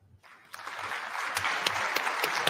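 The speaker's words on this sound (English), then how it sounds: "A round of applause for His Excellency, the President of the Republic of Kenya, William Samoei Ruto." A crowd at an international leaders' summit in Nairobi, Kenya applauds after a speech by Kenya's president. Faint sound swells after half a second into sustained, dense clapping with sharp individual claps standing out.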